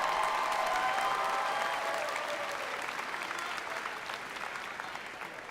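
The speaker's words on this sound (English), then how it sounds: "So give them a round of applause as well." Graduation ceremony crowd at a Western Illinois University College of Education and Human Services commencement gives sustained applause, a broad even patter of many hands that slowly fades across five seconds, with no speech over it.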